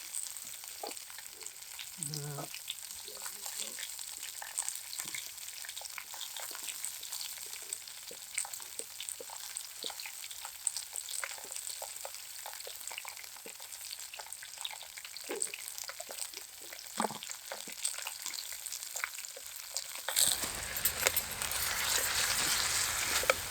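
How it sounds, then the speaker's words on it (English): Bacon pieces and onion frying in a pan at a wild campsite, giving a steady close crackling sizzle with scattered pops throughout, growing louder and more intense near the end. "This is getting all nice and juicy now, and that bacon and onion."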